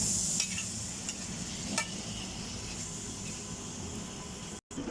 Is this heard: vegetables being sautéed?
yes